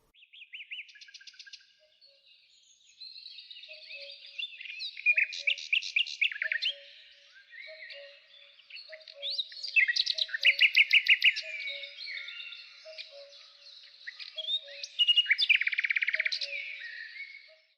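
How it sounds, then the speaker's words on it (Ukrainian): Several birds singing and chirping in a quiet forest, bright trills and tweets coming in bursts, some near and some farther off, with no voices. "уявіть, що ви вже у весняному лісі. Прислухайтесь до звуків лісу"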